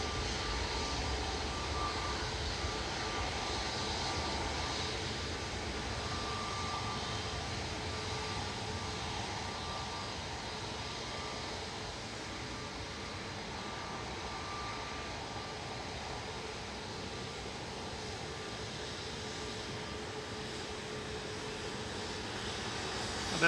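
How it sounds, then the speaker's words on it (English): An ETF Airways Boeing 737-800 takes off from Manchester Airport bound for Almeria, heard as a continuous, fairly distant jet rumble that holds steady and thins slightly toward the end. "operated by ETF Airways there, off to Almeria, 737-800-9A LAB with flight 901."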